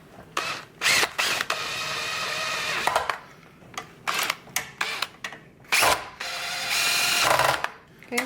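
Screws are driven back into a KitchenAid stand mixer with a power driver, giving repeated short whirring and ratcheting bursts separated by brief pauses, close and fairly clear, with no speech.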